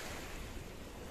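Ocean waves wash onto the shore of Pulau Angso Duo island in a brief, steady broadband rush of surf mixed with wind noise.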